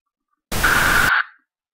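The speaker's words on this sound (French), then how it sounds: "si on fait bruit rose" Pink noise generated in Audacity plays as a loud, steady broadband hiss for about three quarters of a second, cutting in sharply and fading out with a thin tonal tail; no voices.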